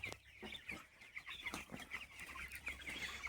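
Broiler chickens about 26 days old in a poultry farm chirp and cluck in a steady, overlapping chorus, soft and moderately close, with occasional rustling.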